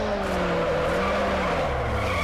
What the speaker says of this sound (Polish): Fantastyczne drifty tutaj odpierdzielam.